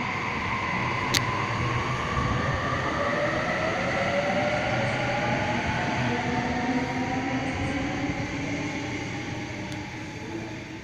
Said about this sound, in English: Waratah arriving onto platform number one.